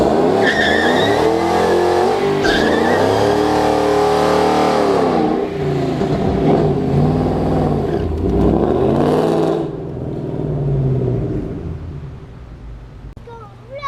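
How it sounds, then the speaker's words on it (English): A 2014 Shelby GT500 Mustang does a long smoky burnout, its engine revving hard and rising and falling in pitch while the tires squeal and skid loudly up close, then fading out near the end. "burnouts, long smoky burnouts, this car has no problem doing them"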